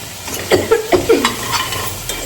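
Okra fries with green chillies in a pan, a close, loud sizzle with a quick run of four or five spatula scrapes and stirs, then a steadier hiss.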